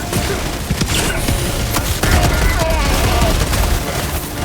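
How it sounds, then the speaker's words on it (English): A Helldivers 2 battle rages with an orbital laser strike and dense gunfire, continuous rattling shots and rumbling impacts, loud and unbroken throughout. "Engaging orbital laser."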